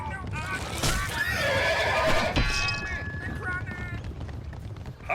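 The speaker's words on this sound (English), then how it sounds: "The Norman horses veer away from the wall and ride along its face" Norman cavalry in a medieval battle game charge past, loud neighing and whinnying over rumbling hoofbeats and battle noise.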